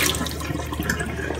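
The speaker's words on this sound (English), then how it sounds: "pour the water out." Hot water poured out of a pan after boiling hot dogs, a steady close splashing pour into a sink that runs unbroken and fairly loud with no talking.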